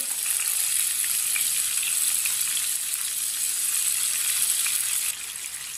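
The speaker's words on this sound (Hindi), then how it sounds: "सब चीजों को 2 मिनट के लिए पका लेंगे। हल्का सा भून लेंगे।" Chopped onion, tomato and crushed raw mango fry in a pan, giving a continuous close sizzle that stays level for several seconds and softens slightly near the end, without any talking.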